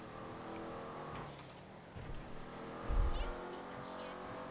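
A car driving in GTA V Online, a steady low engine drone with a brief heavier rumble near the end, faint and under the game's ambient sound.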